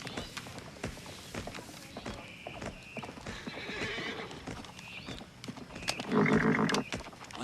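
A horse walks with steady, close clip-clopping hooves throughout, then lets out a loud neigh near the end, with no talking.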